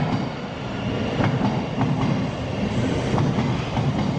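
A London Underground Hammersmith and City Line train rumbles steadily at close range, with faint rhythmic wheel clacks through a continuous loud roar.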